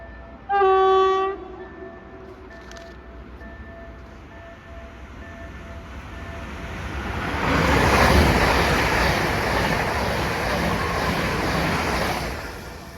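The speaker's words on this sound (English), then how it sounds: "This railway line is mostly used by express trains now" A train horn blares in a short burst, then an express train rumbles past a Warsaw station with rising roar and steady rushing noise that holds to the end.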